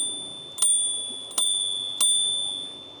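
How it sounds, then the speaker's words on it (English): A pull-type bell on a DYU C2 folding electric bike rings three times, each bright ding ringing out and fading, heard clearly alone with no talk. "you have got the bell here, which is a pull type"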